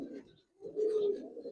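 Cooing of a Giribaz coloring pigeon at a farm, a low steady coo swelling near the middle of a short stretch, close and fairly quiet, with soft bird chirps mixed in.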